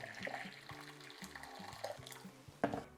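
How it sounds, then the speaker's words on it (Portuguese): Boiling water poured from a vessel onto cornmeal in a bowl for a rye and corn bread dough, a quiet splashing trickle with soft clinks and a brief knock near the end, no talk. "E colocamos a água a ferver na farinha."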